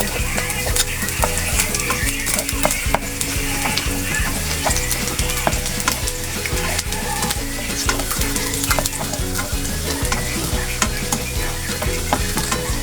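Garlic sautés for an escabeche sauce, crackling and sizzling loudly in hot oil while a utensil stirs and scrapes the pan in a continuous busy texture.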